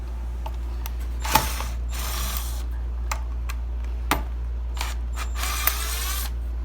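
A ratcheting tool clicks in short bursts while backing pocket screws out of furniture legs, with sharp clicking runs and a few distinct snaps over a low steady hum.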